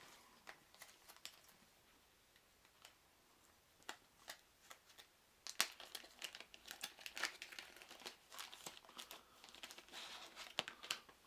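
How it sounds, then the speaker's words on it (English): Plastic Ziploc baggies from a Storage Wars board game by Spin Master being opened and handled, with crinkling, rustling and snapping sounds up close, sparse at first and then busier and louder partway through. "everything's already in Ziploc baggies. Alright, let's open these up."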